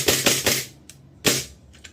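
A WE Glock 34 airsoft pistol fires a quick burst of sharp snapping shots, then a pause and a couple more. The cracks are close and crisp, with no talking over them.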